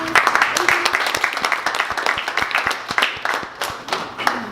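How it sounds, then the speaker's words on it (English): A small crowd at a storytelling exhibit closing reception claps for the speakers, loud, close individual hand claps in a brisk, uneven patter that fills the whole stretch. "So a round of applause"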